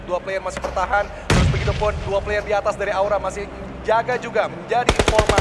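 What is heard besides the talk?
gunfire in PUBG Mobile video game match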